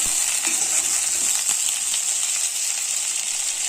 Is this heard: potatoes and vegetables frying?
yes